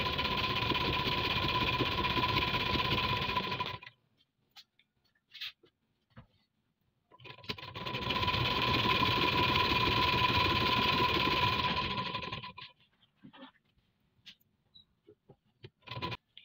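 Sewing machine stitching a velvet shalwar, two long continuous runs of steady mechanical whirring close by, separated by quiet pauses with faint handling noises.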